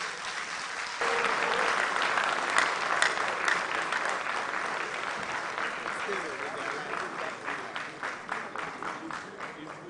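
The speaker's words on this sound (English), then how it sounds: "Ladies and gentlemen, please, another round of applause for Dr." Sustained audience applause for Dr. Richard Bamfo at a science and maths quiz mentorship session, starting abruptly and holding steady as a full crowd claps, with scattered louder claps throughout.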